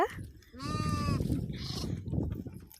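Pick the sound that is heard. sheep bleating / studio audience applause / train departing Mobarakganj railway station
sheep bleating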